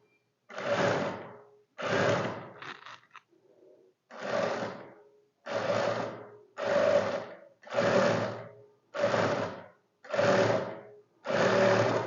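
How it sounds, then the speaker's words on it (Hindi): A sewing machine runs in nine short bursts with brief pauses between them, stitching down the inward-folded neckline fabric of a simple shirt, loud and close with no voices. "गले का कपड़ा जो अंदर को मोड़ा था उसको एक पैक की हम सिलाई लगा लेंगे।"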